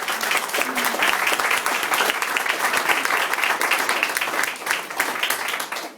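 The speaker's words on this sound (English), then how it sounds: "I think we should give them a big round of applause." An audience at the launch of a 1916 street art project bursts into steady, loud applause, thick overlapping claps from many hands held throughout before easing slightly near the end.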